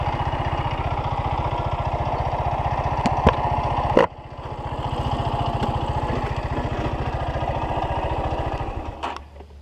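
Honda CBX 200 Strada motorcycle engine idling close by with a steady low pulsing throb, briefly faltering about midway and again near the end as a bad battery contact makes it run unevenly.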